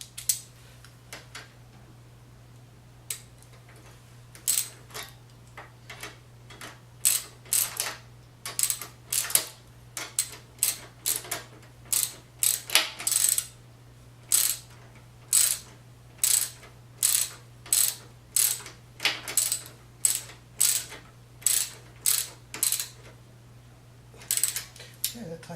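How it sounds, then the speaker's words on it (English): A hand ratchet tightens a part on a Honda VT600 motorcycle, sounding as repeated bursts of sharp clicking strokes, near and fairly loud over a steady low hum, growing faster and more regular toward the end. "Go ahead and ratchet that in place."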